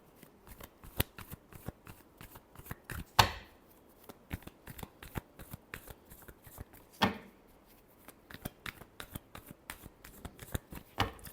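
A deck of tarot cards is shuffled by hand close up, a long run of quick, crisp riffling clicks and flicks in irregular bursts, with two sharper slaps where the deck is squared.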